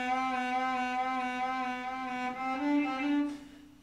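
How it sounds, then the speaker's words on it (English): A single sustained bowed cello note with a soft, slightly fuzzy tone, held steadily for several seconds before fading out. "So, because if you play soft, it will sound like this."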